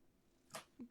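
A single quick sneeze bursts out at close range, a short sharp exhale followed a moment later by a brief low vocal catch, in an otherwise quiet room during a tabletop game session.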